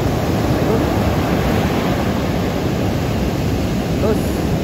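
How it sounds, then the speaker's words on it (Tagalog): Strong sea waves crashing at a beach on Morong, Bataan, a loud continuous roar of surf and spray close by, with no break in the rush of water. "Parang gustong manakit itong alon. Oh. Makakaligo ka pa kaya yan? Grabe. Ang lakas, oh."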